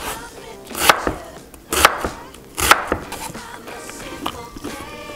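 A kitchen knife cuts through an onion on a cutting board in a few sharp, distinct chops spaced about a second apart, close and clear with light handling noise between.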